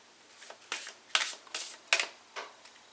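Tarot and oracle cards are shuffled in a series of about six soft, crisp riffling bursts, close and fairly quiet, with short pauses between them.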